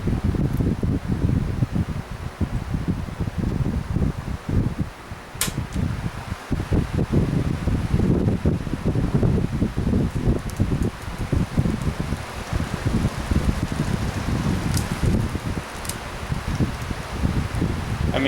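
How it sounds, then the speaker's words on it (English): A cheap 1990s WeatherWorks electric fan runs steadily, giving a constant close, breathy whoosh of moving air with a low fluttering rumble throughout. "WeatherWorks fans never seem to have the best airflow, and something just blew off."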